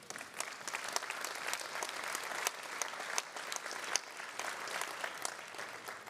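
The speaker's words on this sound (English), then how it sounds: "a round of applause for CDP and to everyone in our audience." A crowd at the CDP Awards Europe 2024 ceremony claps steadily, sustained applause at moderate volume with no pauses.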